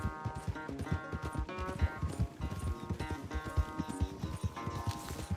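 Horse hooves gallop in Red Dead Redemption 2 during a race, a fast, rhythmic clip-clop that continues steadily throughout over a soft tonal backdrop.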